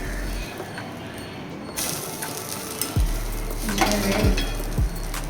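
A ragi rava diet dosa sizzles steadily on a pan, with a few sharp scraping knocks of a spatula as it is turned over, close and fairly loud with no talking.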